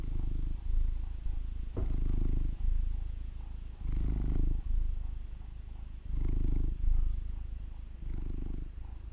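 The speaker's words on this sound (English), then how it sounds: "I'm not sure if you can hear it, but it's purring." A cat purrs up close, a low rumbling purr that swells and fades in a slow regular rhythm of inhale and exhale cycles, steady and continuous throughout.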